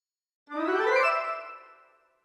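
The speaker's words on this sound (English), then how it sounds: "our woodwind run sounds like this." A quick rising run of sampled orchestral woodwind notes, all woodwinds together, swells in, then rings out and decays over a couple of seconds.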